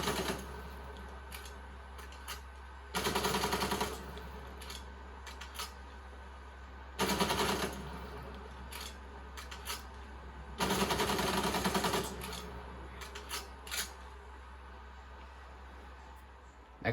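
Dual-wielded AMP-63 pistols in Call of Duty Cold War fire three separate rapid bursts, each about a second long with dense overlapping shots, close and loud, spaced by gaps of quieter ambient game noise.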